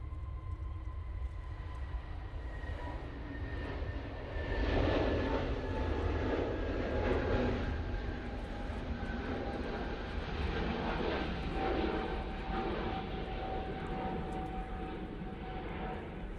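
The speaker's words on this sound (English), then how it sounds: "Brussels Airlines, now on the roll." A Brussels Airlines airliner rolls for takeoff at Manchester Airport, its engines a broad steady roar with a whining tone that swells slightly mid-way, heard from a distance with no talk.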